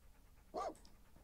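A dog in the video game Fallout London gives a short burst of panting, one brief breathy puff standing out over a quiet game background.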